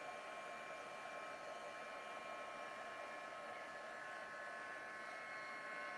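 A heat tool used for stamping blows hot air in a steady, even fan-like whir, constant and unbroken for the whole stretch, with no voices.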